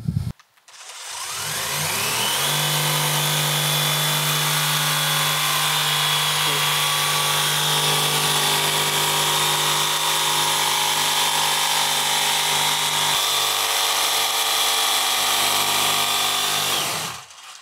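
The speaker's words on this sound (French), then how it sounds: "on coupe avec une machine exprès pour couper l'isolant, avec une lame spécifique" A dedicated insulation-cutting machine with a special blade spins up, then runs as a loud, steady, buzzing roar for about fifteen seconds before winding down, with no talk over it.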